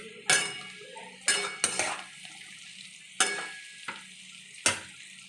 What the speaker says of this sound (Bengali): কিশমিশটা দিয়ে একটু ভেজে নেব।